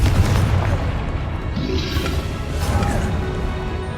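A Confringo fire-blast spell from Hogwarts Legacy erupts as a loud, booming explosion with a rumbling crash that fills the whole stretch, dense and close with no speech.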